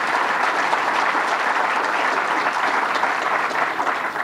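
A room of attendees at a government policy event gives a sustained, dense round of applause for a county executive and chairperson, steady and fairly loud throughout.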